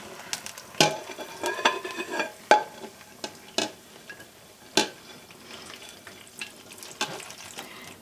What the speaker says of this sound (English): we just are going to dump our macaroni and cheese into this dish